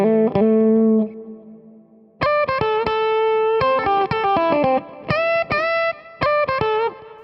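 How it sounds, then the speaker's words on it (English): Electric guitar played alone through a lead preset with ambient reverb and soft delay, ringing sustained notes followed by bursts of quick picked phrases with echoing tails, close and loud. "Here's a guitar track isolated with those new effects."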